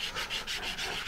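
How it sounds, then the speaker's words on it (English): Close, rhythmic hissing strokes of sandpaper rubbing a stack of balsa wood pieces by hand, about five even back-and-forth passes in quick succession. "we'll stack sand them to make sure they're all the same size"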